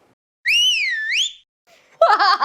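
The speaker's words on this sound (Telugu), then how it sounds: "మాస్ మహారాజా వేసుకో విజిల్" Loud, bright celebratory whistle with a rising and falling pitch that lasts about a second, made in a home kitchen while seer fish pulusu is cooked, followed by a short burst of excited voice sounds.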